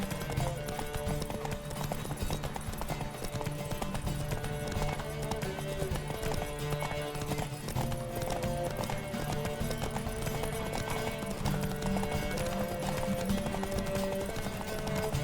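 The horse Roach gallops in The Witcher 3, a fast steady clip-clop of hooves that runs continuously under a dense layer of game sound and music.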